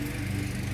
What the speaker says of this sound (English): I apologize for the lawnmower.